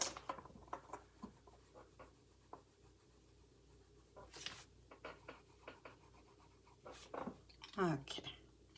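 A Prismacolor colored pencil scratches across paper in soft, irregular strokes, faint and close, with a few louder rubs and a brief vocal sound near the end.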